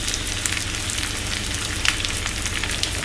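Onion frying in a pan while making dal, a dense close sizzle with crackling pops running steadily throughout, no voices.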